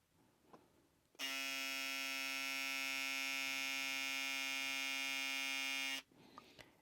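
A Stylecraft Instinct Metal Edition cordless hair trimmer hums with a constant, bright electric buzz, close and loud, running steadily for nearly five seconds before switching off, with quiet room noise before and after.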